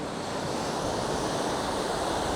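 Surf rolling onto a beach at Santa Maria in the Azores, a steady broadband wash of waves, loud and continuous, with some wind noise.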